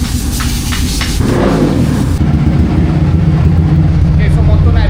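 A motorcycle engine runs at a dyno workshop, a low continuous rumble that rises to a heavier, steady drone after a moment, with voices in the background.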